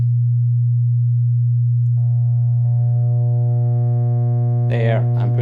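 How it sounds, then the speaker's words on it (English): A pure sine tone from a Haken Continuum running the EaganMatrix kinetic model holds steady and loud. Partway through, higher overtones join it, and a brief burst of talk comes in at the end. "Alright, there's my sine tone."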